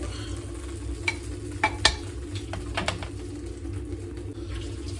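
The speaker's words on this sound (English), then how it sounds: "so we're now going to get this transferred into the slow cooker" Lamb Goan curry is moved into a slow cooker, with soft scraping and a few sharp utensil clinks over a low, constant sizzling background, close by and with no speech.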